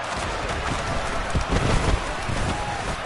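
Steady rain falling over a stadium during an American football game, a dense hiss of drops with soft thuds and crowd murmur mixed in, constant and fairly loud throughout.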